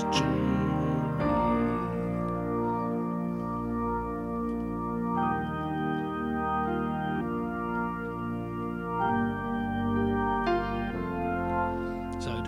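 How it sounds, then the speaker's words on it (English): Bridge chords roll out of a Nord Stage 3 keyboard in a worship-style patch, a warm sustained keyboard tone moving through a slow series of held chord changes every couple of seconds, close and full with effects shimmer, no voices. "Or you can go from there back into the bridge chords,"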